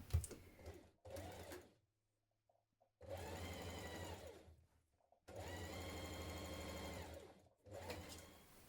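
A home sewing machine stitches the side seam of children's dungarees in stretch fabric, running in three separate bursts with short quiet pauses between them, close and steady.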